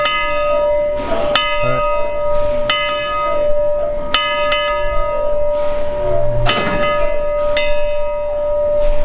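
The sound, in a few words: bell being rung at a steam train meetup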